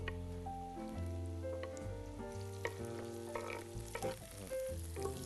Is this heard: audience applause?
no